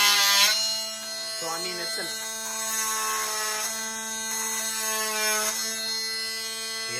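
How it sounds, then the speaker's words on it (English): An oscillating multi-tool runs at speed setting 6 while cutting wood, giving a steady, buzzing, tonal hum that rises and falls slightly. A person speaks briefly over it. "so it's for sure a good oscillating tool"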